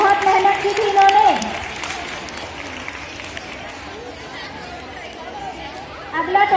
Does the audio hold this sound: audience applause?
yes